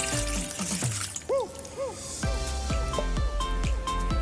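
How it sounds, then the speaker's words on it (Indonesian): Water poured into a bowl to start the batter for martabak manis, a sweet Indonesian pancake, heard as a steady close splashing and gurgling stream that runs through the whole moment with no talk. "Tahap demi tahap yang harus dilakukan adalah yang pertama kita tuang airnya terlebih dahulu."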